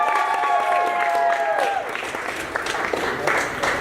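A comedy club audience claps and cheers as a comedian is brought on stage, a steady dense wash of applause with crowd noise mixed in.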